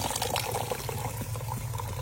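Water pours into a tea kettle beside a wood-fired clay stove in rural Egypt, a steady, continuous splashing trickle heard throughout.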